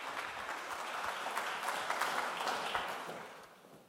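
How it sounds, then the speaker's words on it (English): Applause from an audience at an environmental conference in Riga, a quiet, steady patter of many hands clapping that swells slightly and then tapers off over about four seconds. "Applause,"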